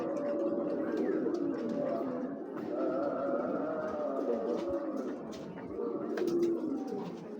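Imported racing pigeons cooing in soft, repeated low calls, several birds overlapping close by against a faint background hum.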